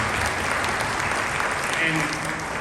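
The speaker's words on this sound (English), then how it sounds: "I would like to get a round of applause going" A panel audience at the Midsummer Scream convention bursts into a dense, steady round of applause that fills the whole moment, loud and close, with a few voices mixed in beneath the clapping.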